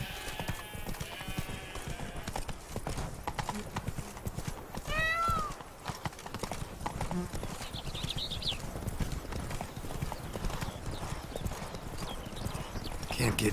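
In The Witcher 3, the horse Roach trots with steady, quick hoof clip-clops. A whinny breaks in at one point, and voices talk over the hooves throughout.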